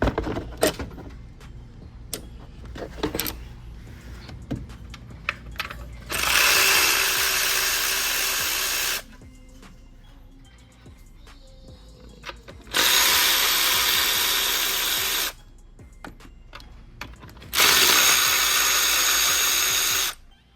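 Power wrench work with a 10 mm deep socket on a car during a Chevy 5.3 engine swap into a Cutlass: three loud sustained bursts of whirring, each a few seconds long, separated by quieter clicks and clanks of handling.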